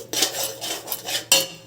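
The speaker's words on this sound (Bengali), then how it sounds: "ধনে গুঁড়ো, লঙ্কা গুঁড়ো, হলুদ গুঁড়ো দিয়ে সবগুলো ভালোভাবে নাড়াচাড়া করে নেব" A utensil scrapes and clinks against a pan while coriander, chilli and turmeric powders are stirred together, giving a few quick, close scraping strokes with short metallic accents and no talking.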